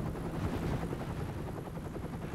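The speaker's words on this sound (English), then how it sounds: "The chopper squad fly the heli-gimble into the swampy heart of the Delta" A helicopter carrying a camera mount flies over the swampy heart of the Delta, its steady, loud rotor and engine drone filling the air continuously with no other sounds.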